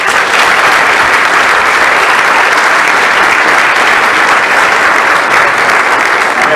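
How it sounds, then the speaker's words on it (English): An audience of university midshipmen and ROTC cadets gives a loud, sustained round of applause, dense steady clapping filling the room from start to finish. "Let's give you all a round of applause."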